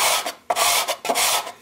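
A model building base from a Woodland Scenics DPM kit is rubbed flat on sandpaper in a rasping back-and-forth rhythm, about three strokes with brief pauses between, close and fairly loud.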